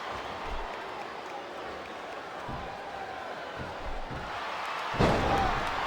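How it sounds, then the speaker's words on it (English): Wrestling arena crowd noise in WWE SmackDown vs Raw 2007, a steady murmur broken by a few thuds and swelling into a louder burst near the end, with commentators talking over it. "I love hearing the crowd come alive"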